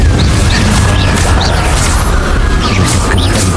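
A Repulso spell blast in the Hogwarts Legacy video game: a loud, sustained booming rush of noise with brief whooshing and crackling bursts layered on top, steady and forceful throughout.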